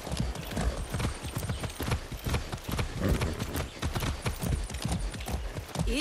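Rapid, heavy hoofbeats of a galloping horse in the video game Far Cry 6, loud and close, with a continuous pounding rhythm and a brief whinny.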